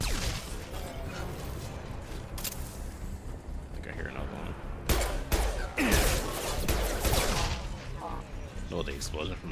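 A robot blows up in the Mass Effect 2 video game, with sharp gunfire-like bangs and a heavy burst midway amid continuous game noise, while a voice talks over it.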